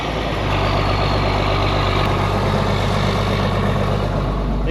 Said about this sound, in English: just so they can see me start this tractor